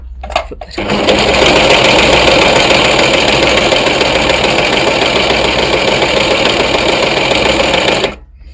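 A Brother CV3550 coverstitch machine stitches through fabric in one loud, steady mechanical whir that starts abruptly, runs about seven seconds close up and stops sharply.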